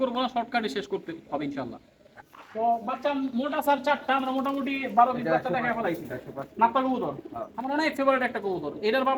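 Pigeons cooing at a home loft where birds are kept and bred, a steady, near series of soft rolling coos with someone talking over them throughout.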